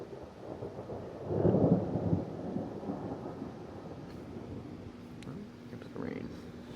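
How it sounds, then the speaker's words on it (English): A low rumble of thunder rolls in and swells briefly during a strong spring thunderstorm with high winds, over a steady wash of rain and faint background noise, fading to a softer patter afterward. "Here's the rain."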